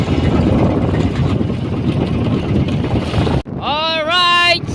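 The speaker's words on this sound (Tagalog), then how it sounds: "Lakas pa rin yung hangin." Strong wind buffets the microphone in a loud, rushing roar at sea, cutting off abruptly before a voice speaks at the end.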